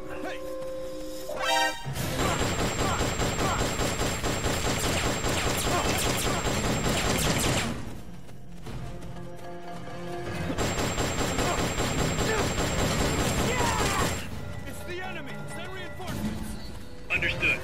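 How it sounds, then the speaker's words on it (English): Bursts of video game gunfire crackle in two dense, sustained volleys separated by a short lull, loud and close, with snatches of game voices around them. "Hear that? Gunshots!"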